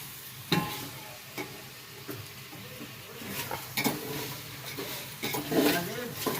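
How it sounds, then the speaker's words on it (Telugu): Ginger-garlic paste stirred in a hot frying pan, a steady close sizzle broken by scraping spoon strokes and occasional clinks, with soft background voice at moments. "బాగా మిక్స్ చేయాలి ఫ్రెండ్స్"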